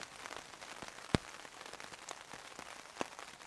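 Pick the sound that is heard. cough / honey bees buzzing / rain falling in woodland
rain falling in woodland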